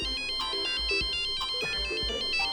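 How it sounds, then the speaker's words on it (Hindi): A mobile phone ringtone rings loudly and close, a repeating electronic melody of bright, evenly spaced tones. "वाइफ का फोन तुमने कट कर दिया?"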